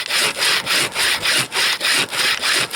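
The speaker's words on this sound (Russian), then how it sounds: "она не только поперечка, но и, видите, и продольно может пилить." A hand saw cutting wood outdoors in the freezing taiga, able to rip lengthwise as well as crosscut, with about nine loud, even back-and-forth strokes in a steady rhythm, close by and alone.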